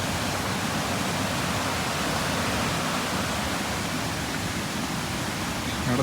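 Water rushing steadily along a mountain stream near a village in a dense estate, a continuous broadband wash that stays loud and even throughout with no voices.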